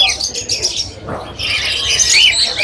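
Caged birds at a bird market in Mirpur, Dhaka chirp and tweet in dense high bursts, with a brief flutter or coo in the middle and steady ambient noise underneath.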